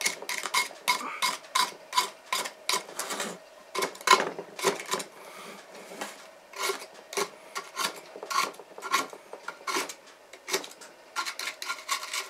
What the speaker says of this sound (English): With respect to the sides now, you can see it scrapes down